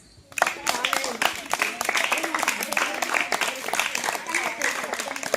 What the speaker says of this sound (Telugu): టీం మొత్తానికి క్లాప్స్.